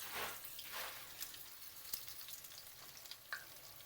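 Lazy cabbage rolls of minced meat, onion and pepper, coated in breadcrumbs, frying in oil in a pan, giving a quiet, continuous sizzle with small crackles and pops and no talking.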